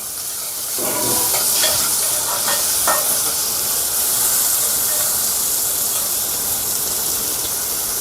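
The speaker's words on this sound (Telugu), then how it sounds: "ఇప్పుడు అందులో ఒక చెంచా ఉప్పు అలాగే ఒక చెంచా పసుపు వేసుకొని ఒకసారి కలుపుకుందాం" Salt and turmeric being stirred into ridge gourd chutney in a pan, a steady close hiss and sizzle running throughout with a few soft scraping stirs near the start.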